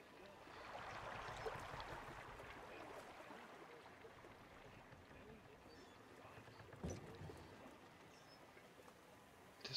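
A swan boat ride on water in the horror video game The Park glides along with a soft, steady wash of water and faint airy rumble, quiet and continuous, with a couple of small knocks near the end.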